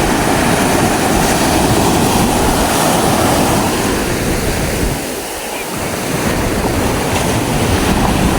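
Ocean surf breaking on a beach where a fishing net is being hauled in, a loud continuous wash of waves with one brief lull before the roar swells again.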